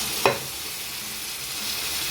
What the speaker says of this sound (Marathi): या आता घालायचे चणे